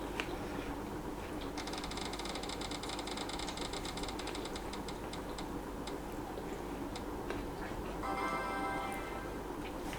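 A reading-choice spinner wheel ticks rapidly, its clicks slowing and spacing out, then a second quick burst of ticking near the end, faint and close.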